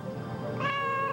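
A pet cat meows once, a close, clear drawn-out call rising in the second half over faint low background noise, with no talk over it.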